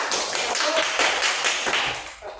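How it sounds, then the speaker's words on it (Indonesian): A class of fifth-grade pupils claps together in a classroom, a quick run of sharp, rhythmic claps that swell into short bursts, close and fairly loud, with no talk over them. "Tepuk tangan semuanya."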